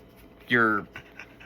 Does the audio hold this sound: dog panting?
yes